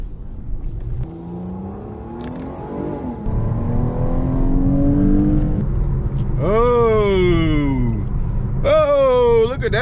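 Car accelerating during a street race, a steady engine rumble that gives way to sharp, loud revving climbs as the gears wind up, heard close from inside the moving car.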